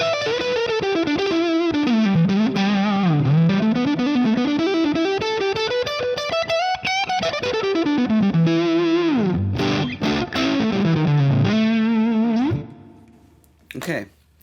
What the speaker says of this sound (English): Okay, so with this you might really notice a difference in some of the sustain and the singing tone with these noiseless pickups.